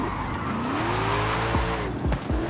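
Virtual car drifting in Forza Horizon 5, its engine droning loudly with a rising whine and continuous tire squeal as the rear slides, with a few sharp transient knocks near the end.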